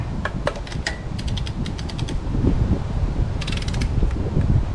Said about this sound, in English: How good are ratcheting torque wrenches?